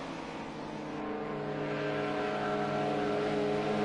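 Historic touring cars, BMW and Mercedes among them, racing on a circuit: a steady, loud engine drone with strong harmonics that climbs gradually in pitch as the cars accelerate, with no break in the sound.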